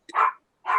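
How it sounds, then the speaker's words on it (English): Dog barking in the background, two short, sharp barks close together, loud and clear against silence. "Got that barking dog in the background."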